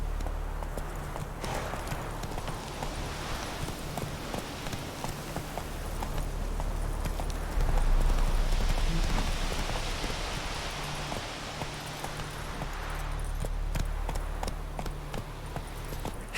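Hooves of Geralt's horse Roach clip-clopping at a run through The Witcher 3, a steady drumming rhythm with a light rain-like patter and low game ambience underneath.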